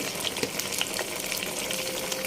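A steady, crackling sizzle of ginger garlic paste frying in hot oil, with occasional louder spits and pops, close and continuous.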